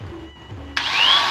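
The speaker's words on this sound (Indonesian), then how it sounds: "Kita coba sekarang colokin gerindanya." An angle grinder is switched on to shape a custom golok, a sharp high whine kicking in abruptly near the end of a short stretch of quieter room noise, close and fairly loud.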